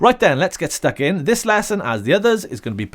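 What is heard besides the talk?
None of the usual background noises is heard.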